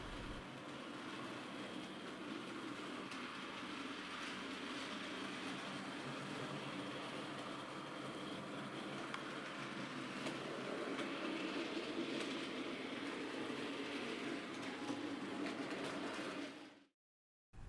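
A small, highly detailed model railway locomotive runs around a compact layout in a continuous faint rolling rumble with light clicking along the track, steady for most of the stretch before cutting off abruptly near the end.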